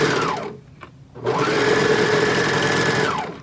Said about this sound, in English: And then sew down the rest.